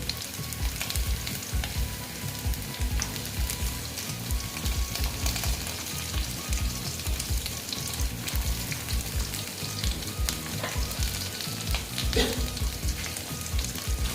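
Jackfruit seeds fry in a pan with a loud, continuous sizzle and crackle, stirred now and then, steady throughout with no voices.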